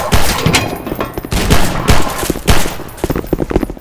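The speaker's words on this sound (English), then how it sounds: "Shoot him! Shoot him dead!" Rapid gunfire fills a Half-Life 2 roleplay game scene, with loud overlapping shots and bursts crackling in quick succession throughout, dense and close.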